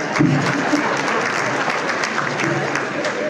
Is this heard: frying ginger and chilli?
no